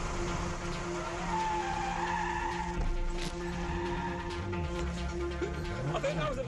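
Toyota Soarer drifting sideways, tyres squealing and skidding over a steady engine drone, continuous and fairly loud, with a voice talking faintly in the background.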